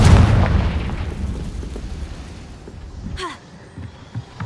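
A Confringo spell blast in Hogwarts Legacy: a loud booming explosion at the start that decays into a long rumbling tail, followed by a sharp magical whoosh and small pops.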